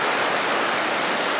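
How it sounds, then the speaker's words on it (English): An outdoor river flows past gravelly banks and boulders below pines and deciduous trees, giving a steady, loud rushing wash with no voices. "the river flowing away from us into that scene"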